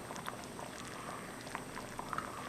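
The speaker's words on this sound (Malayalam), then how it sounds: "പുളി ചേർത്തിട്ട് കൂട്ടാൻ നല്ലോണം തിളച്ചു." A pot of Kerala nadan curry with tamarind bubbles at a soft, steady simmer, with faint pops and gurgles over a constant low hiss, close but quiet.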